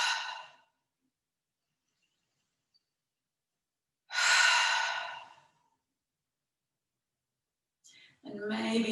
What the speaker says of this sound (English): Take a big deep breath in and then exhale, letting it all go.